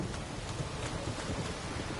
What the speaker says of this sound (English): the weather effects in this game are amazing, and it's not just that. It's the rain and the wind and how it interacts with the environment.